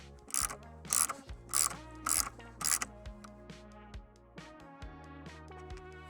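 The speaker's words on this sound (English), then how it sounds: "so loosen this 19mm nut all the way off" A ratchet loosens the 19mm steering wheel nut on a 1997-2008 Jeep Wrangler, giving five loud bursts of rapid pawl clicking, then a softer, slower run of clicks as the nut spins free.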